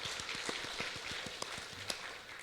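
A congregation at a Korean church Sunday service claps to welcome a newly registered member, a short, moderately distant round of scattered hand claps.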